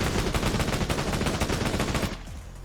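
Rapid automatic gunfire from the shooter video game Code of War rattles in a loud, continuous burst that cuts off near the end, leaving a quieter tail.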